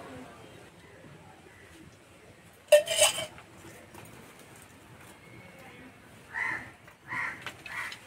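A metal wok is set down on a kitchen stove with one sharp clank, followed by quieter pan clatter and faint clinks as mustard oil goes in, all in a quiet kitchen.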